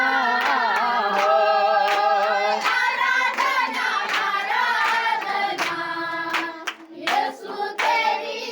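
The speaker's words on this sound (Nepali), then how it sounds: "मिलकर ताली बजाते हुए" A congregation claps hands in a steady rhythm along with a Hindi Christian worship song, sharp regular claps ringing over loud singing and music.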